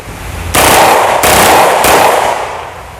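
A Zoraki 925 blank gun with a long 25-round magazine, loaded with silver-cased blanks, fires loud, rapid, crackling bursts close by, broken by brief gaps, with no talking.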